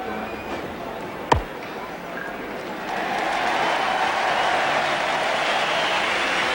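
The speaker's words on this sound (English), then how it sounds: "Applause from this big crowd for Graham Wood's 50." Big crowd at the 1981 MCG one-day cricket final between Australia and New Zealand applauding a batsman's fifty, a sharp bat-like knock early, then broad, distant applause swelling and holding steady.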